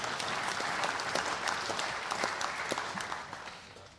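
An audience at the 2025 World Bowls Champion of Champions finals day gives a round of applause, a dense, even burst of many hands clapping that fades out toward the end.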